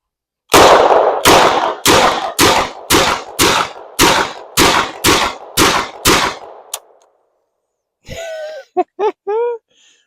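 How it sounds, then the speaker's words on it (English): An IMI Micro Uzi submachine gun fires about a dozen sharp, loud shots in a rapid, slightly uneven string, each with a short ringing tail, followed by a pause and then brief speech. "Such an uncomfortable gun to shoot, like that right there."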